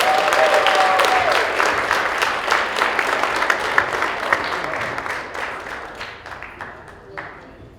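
A student audience claps for a contestant called Fiji at the RPI Meanest Man on Campus debate, with dense, close applause that swells at once and then thins and fades over several seconds, with a few scattered claps at the end.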